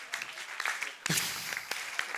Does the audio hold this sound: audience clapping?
yes